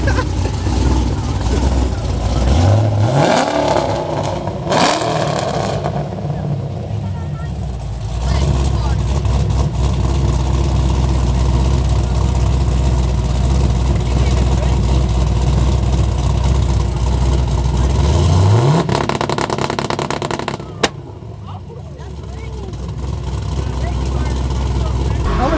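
A Chevrolet Camaro engine idles steadily and sweeps up in two loud revs, one early and one late, with people talking over the running motor.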